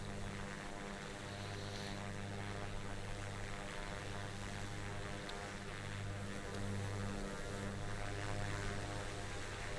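A Piper Comanche light propeller plane in flight over Tanzania, heard from inside as a steady loud engine drone with a strong propeller hum and broad wind roar, constant and unbroken.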